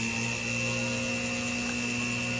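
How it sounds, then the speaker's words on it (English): Small power drill boring a hole through a sterling silver chain link held on a wooden ring mandrel, a steady continuous whine with electric hum, unbroken and fairly loud throughout. "Here's where I have my mark on here, so let me go in and drill it"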